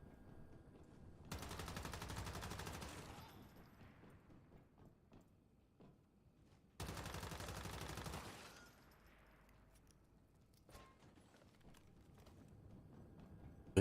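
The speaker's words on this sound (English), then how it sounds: "I love me some machine guns." Two long, rattling bursts of rapid machine gun fire in the video game Once Human, each lasting a couple of seconds, followed by a shorter third burst. The gunfire is fairly quiet overall.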